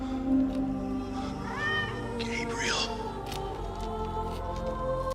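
A white cat in the film The Crow gives a couple of drawn-out meows over a low, rumbling movie soundtrack, with no voices during the cries.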